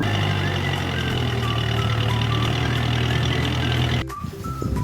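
A tractor engine drones steadily and loudly at a windy farm field where another tractor is stuck, then drops away abruptly near the end, leaving quieter wind and background noise.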